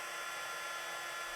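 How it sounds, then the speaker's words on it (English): A heat tool blasts hot air to melt embossing powder onto paper, a steady close whooshing hiss that holds without a break. "So you do need to have a heat tool to do this technique"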